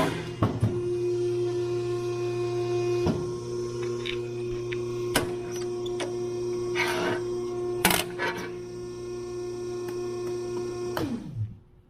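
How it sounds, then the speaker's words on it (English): A belt sander runs with a steady motor hum while working on a light mount for a Polaris General windshield pillar, punctuated by sharp contact clicks and scrapes, close up, then winding down at the end. "so we got this sander right here. I guess I could show you what that looks like. It's pretty simple. It's got a belt on it"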